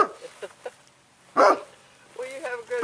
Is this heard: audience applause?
no